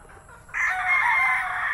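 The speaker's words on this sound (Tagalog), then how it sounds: "Tingnan natin yung mga cocks dito." A rooster crows once, loud and close, a long drawn-out call over a faint farmyard background at a breeding farm.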